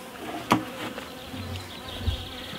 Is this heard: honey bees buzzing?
yes